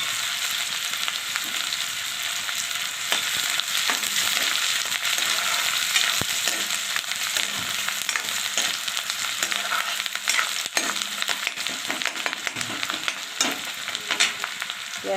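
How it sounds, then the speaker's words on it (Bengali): Two medium onions frying in oil in a pan for masoor dal pakoda, a loud, continuous sizzle and crackle with faint stirring scrapes, close up and uninterrupted. "পেঁয়াজটা একটু লাল লাল করে ভেজে নেব।"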